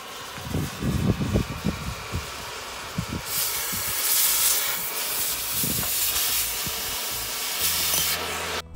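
Water sprays onto corrugated sheet metal being washed for reuse, a hissing rush with uneven splashes and spatters early on, then a steadier loud spray that carries on close by.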